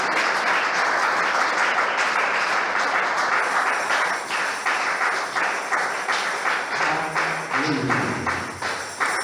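A church congregation claps during a sermon, a dense wash of applause that thins into a slower rhythmic clapping toward the end, with a voice briefly rising underneath.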